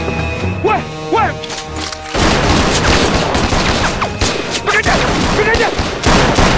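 A rapid fusillade of rifle and machine-gun fire erupts in a Chinese anti-Japanese war film scene, dense overlapping cracks and bangs that roll on continuously after shouting voices at the start.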